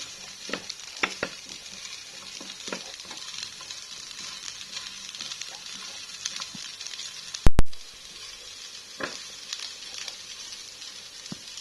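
Frozen potato sambal goreng is reheated in a frying pan, giving a steady soft sizzle and crackle with occasional stirring scrapes and one sharp clunk partway through.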